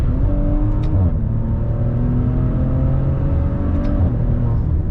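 A Maserati Levante engine revs up and accelerates steadily, a loud continuous roar with rising pitch heard close up, no voices.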